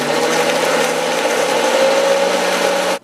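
A kitchen blender purees red cabbage with a loud, steady whirring drone for about three seconds, then cuts off abruptly.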